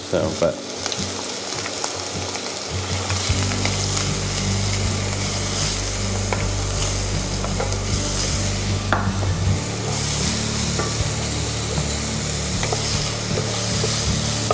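Onion, carrots and celery sweat in a pan with a loud, continuous sizzle, broken by scraping stir strokes from a utensil, close and without voices.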